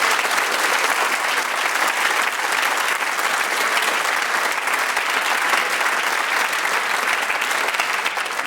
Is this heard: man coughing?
no